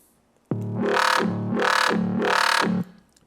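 Three pulsing synth bass notes with a sweeping, wah-like tone and a short reverb tail trailing off after the final note.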